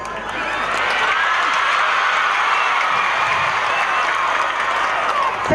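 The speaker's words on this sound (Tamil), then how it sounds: "ப்ளீஸ் சார், கைதட்டு சார், விட்டுருங்க சார்." Audience applause at a Tamil debate event, a dense continuous wash of clapping from a crowd, fairly loud and sustained throughout without any clear talk over it.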